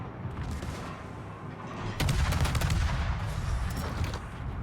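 Burst-fire naval guns from the Spanish destroyer Álvaro de Bazán in World of Warships, a rolling salvo of booming shots that swells into a dense, loud barrage from mid-clip onward, continuing steadily to the end.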